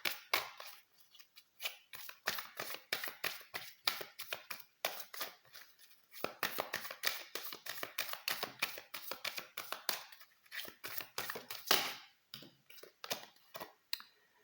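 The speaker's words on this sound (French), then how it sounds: "Allez, je reprends une dernière carte." Tarot cards are shuffled and drawn in a quiet room, giving rapid flicking riffles and soft slaps in bursts with brief pauses, close and gentle, with no one speaking.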